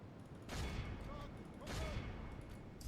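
Volleys of musket-style gunfire crackle in a fantasy strategy battle game, two broad bursts about a second apart over a noisy battlefield din.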